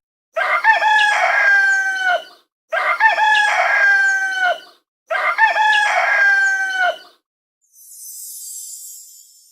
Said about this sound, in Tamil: சேவல் சேவல்